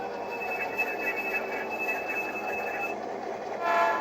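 Four HO scale model BN diesel locomotives run by on a model railroad, a steady low rolling rumble with a high whining tone and a brief horn-like toot near the end, moderately faint.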